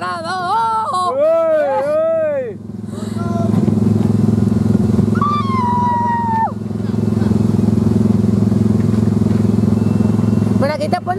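Autopia ride car at Disneyland Paris accelerating: a loud, steady engine drone that holds throughout, with excited voices and whoops over it and a rising whistle-like tone in the middle.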